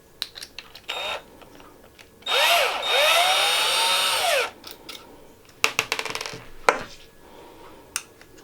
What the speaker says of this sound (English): So I'm going to take the screws out quickly.